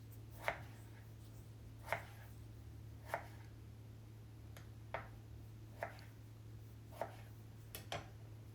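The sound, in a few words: knife cutting potatoes into thin strips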